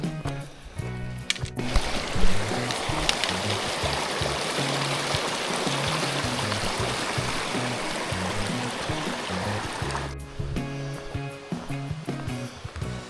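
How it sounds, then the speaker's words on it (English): Rushing water from a stream beside the Appalachian Trail, a steady broad hiss that swells in midway for several seconds before dropping back, with quieter rustling movement at either end. "I hope that's a stream I hear and not rain."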